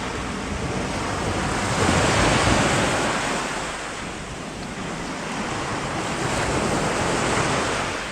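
Rough sea waves break on the shore in a loud, continuous roar. The surge swells and eases in slow cycles, mixed with gusting wind buffeting the microphone.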